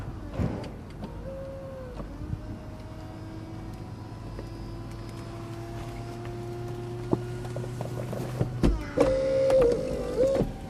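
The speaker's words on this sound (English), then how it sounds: "you can pop the roof up." An electric motor whirs steadily for several seconds as the roof of an Audi TT Roadster convertible raises, with faint mechanical clicks and a louder clunk near the end.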